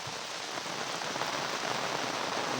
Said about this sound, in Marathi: लगेच पाऊस आलेला आहे इथे जोरातच आलेला आहे